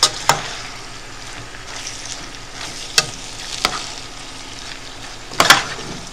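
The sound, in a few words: stirring canned Rotel tomatoes and green chilies into dip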